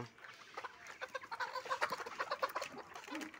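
Layer chickens cluck in a bamboo cage, a busy run of overlapping short calls close by and moderately loud, with no talk.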